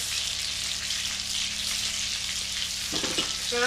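Breaded pork cutlets frying in a frying pan, a steady close hiss and crackle of hot oil, with a few brief clinks near the end.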